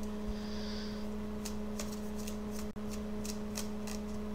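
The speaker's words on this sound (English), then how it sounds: "Shuffling for just a few more seconds before I cut the cards." Soft, steady riffling of cards being shuffled, with repeated brisk bursts over a low constant hum, close and fairly quiet.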